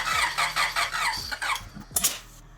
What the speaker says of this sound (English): That was a backfire out of the intake.